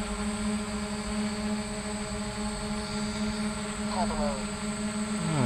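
A DJI F450 quadcopter fitted with retractable landing gear and a GoPro gimbal hovers close by, giving a steady, layered propeller whine and hum that holds constant, with a brief sweeping tone near the end.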